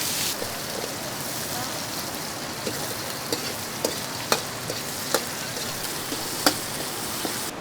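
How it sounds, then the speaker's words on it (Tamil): Brinjal frying with curry leaves in a pan for a dried-fish kuzhambu, a dense continuous hiss of hot oil dotted with occasional small crackles and spoon taps, steady and close. "அடுத்தது நம்ம கத்திரிக்காய் போட்டுக்கலாம் கருவேப்பிலை மட்டும் போட்டு வதக்கலாம்"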